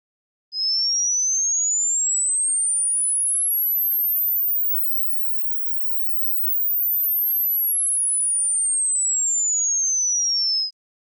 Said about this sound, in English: Here's a high frequency sine wave sweep so that you can have a closer listen